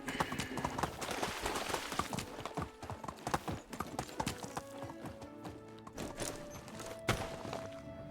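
Horse hooves clip-clop steadily in Medieval Dynasty, a rapid rhythmic run of close, loud hoofbeats over a busy game soundscape with an occasional faint whinny.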